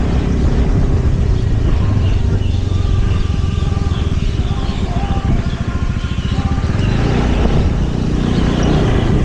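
A car rolls into a temple parking lot in Si Racha, its engine and road rumble a steady, loud, close drone inside the cabin with faint talk underneath.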